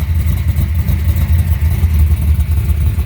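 Idling 1968 Ford Falcon engine with solid lifters, a Lunati Bracket Master lopey cam and MagnaFlow 2.5-inch exhaust, a loud, close, uneven loping rumble with a light rattling clatter throughout.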